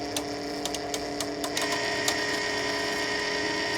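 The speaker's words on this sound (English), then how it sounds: "jog the wire. The longer you hold it, the faster the motor will run." A Versa Bug wire-feed motor jogs welding wire on a pipe setup, giving a steady mechanical whir with faint ticking clicks, close and fairly quiet.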